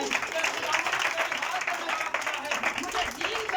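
A church congregation claps and applauds together, a dense steady patter of many hands mixed with a voice speaking over it.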